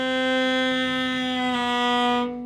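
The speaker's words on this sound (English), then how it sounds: "what you're hearing is the pitch sinking" A sustained bowed string note held under a finger that lifts slowly, slurring toward the next note; the steady, loud tone drifts slightly flat before it fades at the end.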